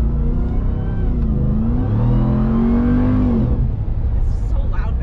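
A 2021 Ram Rebel TRX truck engine revs up with a rising, loud mechanical growl that holds and then falls away, while people talk nearby.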